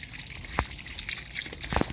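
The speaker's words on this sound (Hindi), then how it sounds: "कितना एक ही जगह पे पानी जा रहा है।" Water pours and trickles onto soil around newly planted tomato plants, with a close, gurgling flow and a few splashy gushes over a constant wet hiss.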